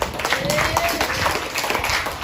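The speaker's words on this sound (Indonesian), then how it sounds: "bagus, tepuk tangan" A classroom of students applauding together, a dense, fairly loud clatter of many hands that runs steadily throughout, with voices mixed into the clapping.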